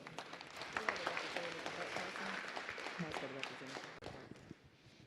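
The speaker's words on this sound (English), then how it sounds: "Let's all give them a round of applause." Audience at a school district board meeting applauding, a dense wash of clapping that runs steadily for several seconds and thins out near the end, with murmured voices mixed in.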